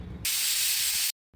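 A pressure cooker holding brinjal with water lets out a sharp, loud burst of hissing steam from its whistle, lasting just under a second before cutting off abruptly, alone with no talk.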